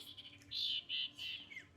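Birds chirp outdoors in a few short, high, faint bursts, three quick calls in under two seconds over quiet background.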